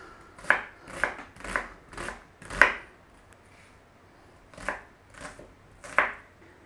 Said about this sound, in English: Onion, we are going to dice fine.